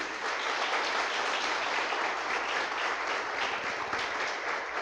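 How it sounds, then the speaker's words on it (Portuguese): Sustained applause from a church congregation, a dense even wash of many hands clapping steadily throughout with no talk over it. "Quem pode aplaudir o Senhor pela palavra dele?"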